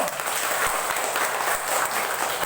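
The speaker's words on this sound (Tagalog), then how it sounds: "ihatag ang pinakakusog ang palakpak alang sa atong Ginoo" Congregation clapping in a chapel during a Bible exposition gathering, a strong sustained wash of applause through the whole clip with little talk.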